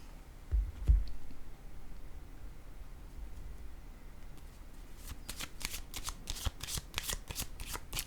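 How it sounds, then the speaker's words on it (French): Playing cards laid down and handled in a quiet room: a couple of soft thumps early on, then a quick run of crisp close flicks and snaps toward the end, faint overall with no talking. "Je vais déposer une autre carte."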